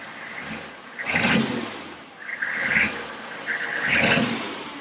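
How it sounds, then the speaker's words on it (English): A Humvee diesel engine revs in three swells over a rough, clattering idle, each blip of gas rising and falling, heard fairly close and with no talking. "it clacks like an old school diesel"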